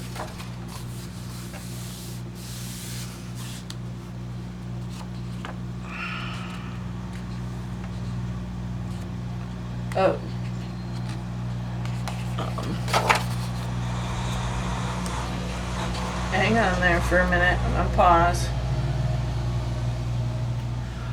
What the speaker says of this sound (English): It was a food service truck turning.